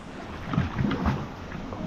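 A motorboat engine hums on the river at Pagsanjan Falls, a steady low drone with water and wind noise over a short stretch.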